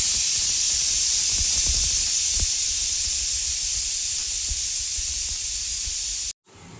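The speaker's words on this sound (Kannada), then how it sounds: "ಇವಾಗ ಇದನ್ನು ಕುಕ್ಕರ್ನ ಲಿಡ್ನ ಕ್ಲೋಸ್ ಮಾಡಿ ಜಸ್ಟ್ 1 ವಿಷಲ್ ಕೂಗಿಸ್ಕೊಳ್ಳಿ." A pressure cooker whistle releases steam in one long, loud, steady hiss while tomato peas pulao cooks, holding for about six seconds before cutting off abruptly.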